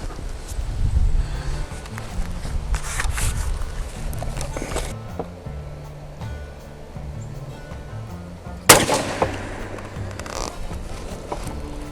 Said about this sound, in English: 2-ounce load, number 9 TSS, out of my Mossberg SA20 with the Carlson 555 constriction